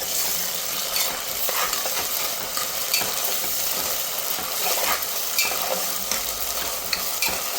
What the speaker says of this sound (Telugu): ఈ అల్లం వెల్లుల్లిపాయ పేస్ట్ పచ్చివాసన పోయే వరకు ఫ్రై చేసుకోవాలి.